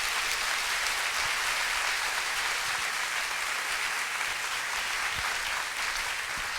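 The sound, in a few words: congregation applauding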